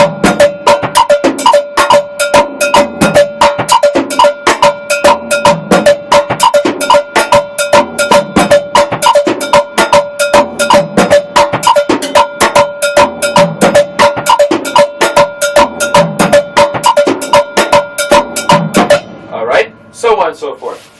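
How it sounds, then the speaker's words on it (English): Hands play a cascara pattern in 5/4 on a drum kit while the feet add a clave rhythm, making a dense, continuous run of sharp metallic clicks over low thumps for about nineteen seconds, then a short spoken phrase. "But now, bring it back with the clave rhythm with the feet."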